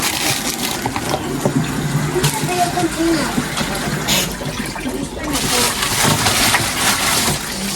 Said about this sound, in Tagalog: lagyan mo rin ng tubig yun